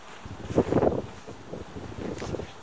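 Strong gusty wind blows outdoors on a cold morning in a village yard, buffeting the microphone with rumbling surges that swell and ease, loudest near the start and steady without voices.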